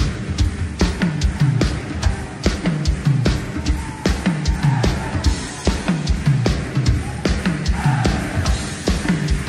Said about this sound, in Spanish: Esa batería, Benja, alaba a Dios así.